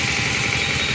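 A 1990 Royal Enfield diesel motorcycle engine runs steadily with a continuous, close, throbbing mechanical drone and no talking.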